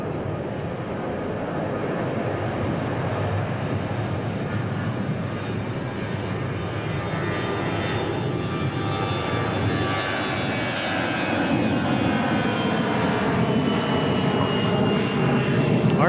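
Airbus A321 airliner departing DFW airport, a broad steady engine roar that builds gradually and grows louder toward the end, heard from a distance with no clear talk.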